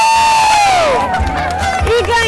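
Studio audience on a Brazilian Portuguese quiz show erupts in loud, dense crowd cheering and shouting, a sustained roar with no clear pauses across the short burst.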